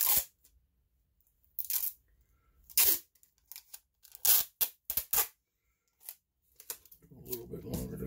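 Baseball-card shipping packaging is prepared with sharp bursts of tape being pulled and torn off the roll, several short ripping rasps close by, separated by quiet gaps, ending with rustling handling.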